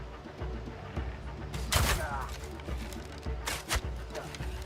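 Sniper rifle fire in the video game Crimson Desert, with a loud shot and rumbling tail near 2 seconds and a second crack near 3.8 seconds, heard over steady game ambience and music.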